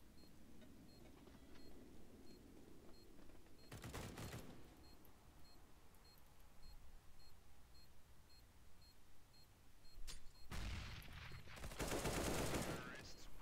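Gunfire from a shooter video game comes in two bursts, a short loud volley and then a longer rapid string of shots a few seconds later, over a quiet hum of game ambience.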